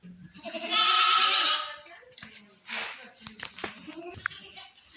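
Dairy goats bleat, with one long, loud, wavering cry up close followed by shorter bleats, while people talk nearby.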